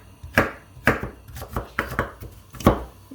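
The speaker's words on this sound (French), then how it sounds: "Donc on va détailler les oignons." A chef's knife chops onions coarsely on a cutting board, about six close, crisp thuds in an uneven rhythm, with no voices.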